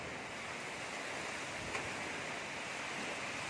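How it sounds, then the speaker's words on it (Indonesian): Strong storm wind whipping around houses in Tatau, loud and continuous, a steady roaring rush with no talk over it. "Sangat-sangat berbahaya. Ini angin badai."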